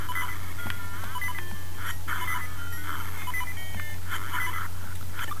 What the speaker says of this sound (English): No more beeping.